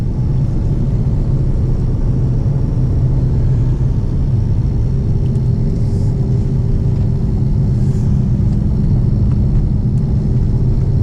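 A Porsche 993 with an air-cooled engine cruises along a countryside road, its steady low rumble continuous and close throughout, with no talking.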